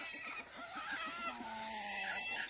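Chicks and chickens mixed together, a run of quick, soft clucks followed by a drawn-out cheep or call over a faint steady background, close by and fairly quiet.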